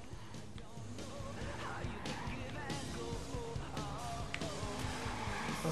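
A car drives in the video game Watch Dogs, its engine droning steadily with tire squeals and skidding over a busy mix of game sound effects and music.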